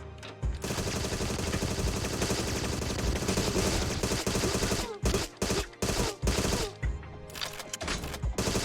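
In the video game Agent 64, a long, loud spray of continuous automatic gunfire opens the scene, then gives way to a series of separate, sharp single shots.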